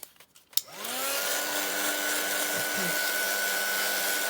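A hair dryer blows air over freshly painted junk journal pages, starting after a brief clatter and then holding a steady, loud whoosh with a constant whine.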